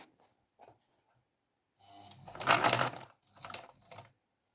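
An old-model sewing machine stitching fabric runs in two close, loud bursts of mechanical whirring and clatter, the longer first run followed by a shorter one, after a few faint clicks and handling noises.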